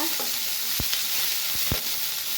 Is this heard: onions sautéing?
yes